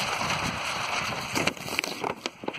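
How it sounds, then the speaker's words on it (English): Steady broadband rush of wind buffeting close by, with a few sharp gusty bursts and clicks toward the end; no talking. "Wow, now it's getting windy."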